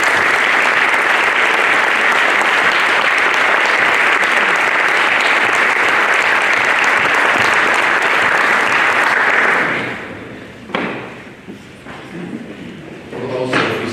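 A crowd at a high school senior sports banquet claps loudly and steadily for about ten seconds, then the applause cuts off and scattered thumps and room noise follow.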